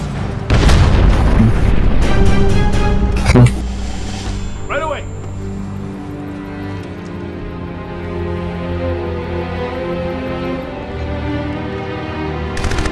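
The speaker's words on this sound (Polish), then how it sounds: "Ładunek wybuchowy." Explosive charges go off in a Crysis multiplayer match: a heavy, loud boom and rumbling blasts with a sharp burst, then a long low roaring aftermath of engine and battle noise.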